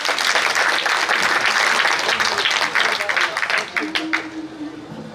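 Audience applause at a Hindi kavi sammelan poetry gathering in Jaora, dense and steady for several seconds before thinning out and fading, with a faint voice near the end.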